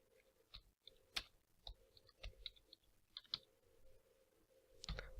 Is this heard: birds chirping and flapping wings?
no